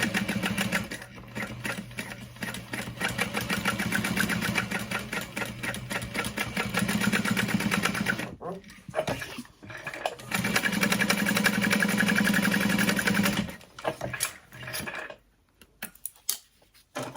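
A sewing machine top-stitches around the flap of a crossbody bag, running in long steady bursts of fast rhythmic needle chatter, broken by short pauses and a few quiet handling noises.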